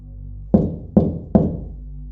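Three sharp knocks land on a door in an old house, evenly spaced less than half a second apart, each loud and close with a short dull ring-off, in an otherwise quiet room.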